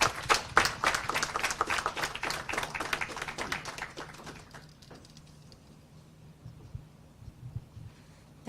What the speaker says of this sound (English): an extra big round of applause for her